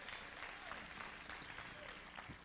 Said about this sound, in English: Would you clap your hands?